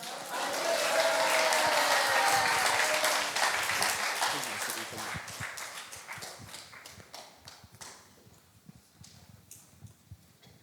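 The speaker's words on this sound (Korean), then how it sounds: "나오실 때 큰 박수로 환영하시겠습니다" Loud church congregation applause fills the space, a dense roar of clapping welcoming the pastor that gradually thins out into scattered individual claps.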